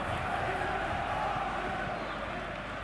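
A football stadium crowd before kickoff makes a dense, steady roar of many voices, with broad cheering and shouting held at an even level throughout.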